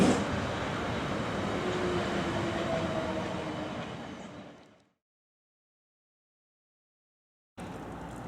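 A South Western Railway train at a station rumbles steadily and fairly loudly, fading out completely before the rail noise returns abruptly near the end; no voices are heard.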